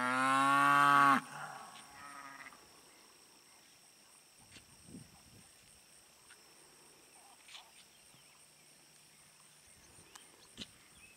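Weaned cattle on a farm give one loud, close moo at the start, followed by a quiet outdoor background with faint scattered calls and insect chirps.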